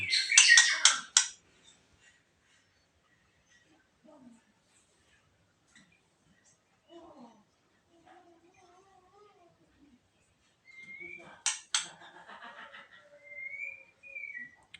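A young white-rumped shama: a burst of shrill chirps opens, then sparse faint calls and soft noises, before a clear whistled call returns near the end.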